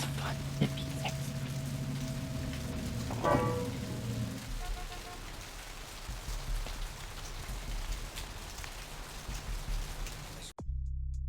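Steady rain pattering on a surface in a vampire video game, a continuous wash with a few faint tones over it early on, then cutting off abruptly near the end.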